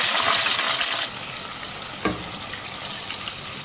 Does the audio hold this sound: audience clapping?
no